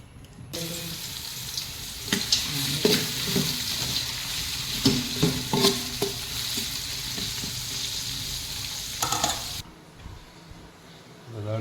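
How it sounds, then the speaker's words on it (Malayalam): Onions frying in a pot for a chicken dum biryani give a steady loud hiss with intermittent stirring knocks and scrapes, cutting off abruptly shortly before the end. "അപ്പോൾ ഉള്ളി ഒന്ന് ഫ്രൈ ആക്കാൻ വേണ്ടി"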